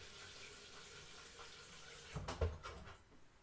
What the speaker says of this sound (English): Get some more water in your kettle.